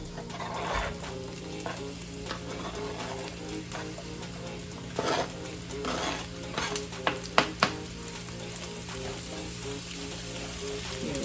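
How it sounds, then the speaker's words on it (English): Onions and mushrooms start cooking in olive oil, giving a soft, continuous sizzle with occasional stirring scrapes and taps, growing a little busier toward the middle. "And we are going to start onions and mushrooms."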